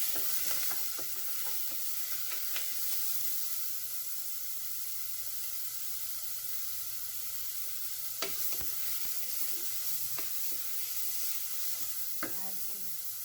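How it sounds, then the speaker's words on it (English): Food fries in a pan for mutton bone soup, a continuous close hiss and sizzle with occasional faint clicks and stirring knocks, no talk. "fry them until they get a golden brown"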